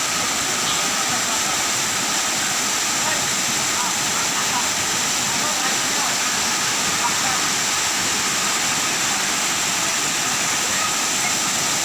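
Waterfall at Busay Lower Baluran in Imelda, Zamboanga Sibugay, roaring steadily and loudly as a dense, unbroken wash of falling water with no pauses.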